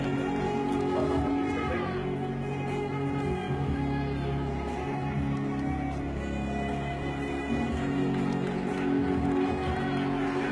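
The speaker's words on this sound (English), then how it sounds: "The crowd welcoming Savinada Lightning Naliva" A boxing crowd in Fiji roars and cheers as a title-holding fighter enters the ring, a dense, continuous wash of voices and scattered clapping that stays loud throughout.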